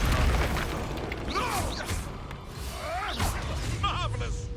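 Confringo spells are cast in Hogwarts Legacy, with booming blasts and impacts over busy combat noise and several short chirpy swooping tones between hits; no talk is heard.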